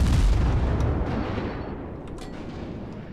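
Naval guns of a USA Omaha cruiser fire in World of Warships, a heavy booming blast with a rumbling tail that fades over a few seconds.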